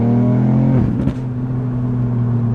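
A Ford Fiesta ST Mk8 holds steady high revs and then drops off them, with a brief crackle of exhaust pops and bangs on the overrun before the engine settles back to a constant drone, heard close up.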